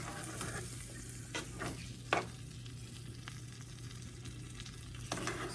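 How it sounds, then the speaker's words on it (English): Soft cooked beans frying in a pan before mashing for frijoles con chorizo, a quiet steady sizzle with a low hum underneath and a few scattered clicks of a utensil against the pan. "You want to kind of fry them up for a little bit before you start"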